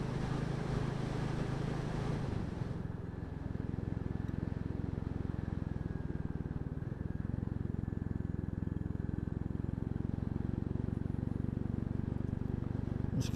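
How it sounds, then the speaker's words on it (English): A Royal Enfield single-cylinder motorcycle, a Classic 350 or Bullet 500, burbles on the overrun in a steady, close, continuous low exhaust rumble that carries throughout without talk. "That's a great sounding exhaust on the overrun"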